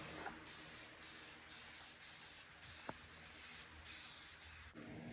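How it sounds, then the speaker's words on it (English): A spray gun laying down a thick coat of primer in repeated bursts, roughly nine short hissing passes with brief gaps between them, close and steady with no talking. "Nice thick coat of primer."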